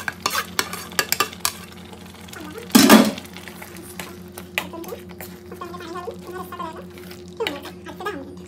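Surmai fish pieces, head and tail included, tipped into a pot of gravy and stirred, with scraping and clinking of a utensil against the pot, a sizzling burst near the middle, and light stirring noises continuing afterward.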